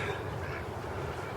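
Male Swedish Blue duck quacking in a farmyard, a rough low call blending into steady outdoor background noise throughout, with no talk.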